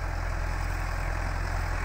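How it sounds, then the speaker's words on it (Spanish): A John Deere 5082 tractor pulling a Bison six-disc harrow runs at a steady low drone, a deep even engine hum with a regular pulsing throb, moderately quiet and uninterrupted. "El tractor John Deere 5082 con una bordeadora Bison de 6 discos BOB06."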